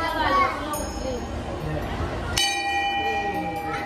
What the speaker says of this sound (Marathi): बाप्पा इथे घंटी वाजव